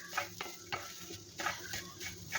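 Grated coconut frying in a pan, stirred with a utensil: steady soft sizzle with repeated scraping strokes at a regular rhythm, close and fairly quiet, no voices.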